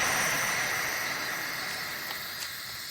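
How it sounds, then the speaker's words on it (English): Steady, dense high-pitched cicada drone from the anime Gintama, a continuous summery buzz holding level throughout with no voices. "The sound here is the sound of a cicada."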